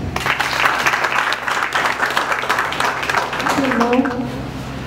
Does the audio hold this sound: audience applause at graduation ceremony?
yes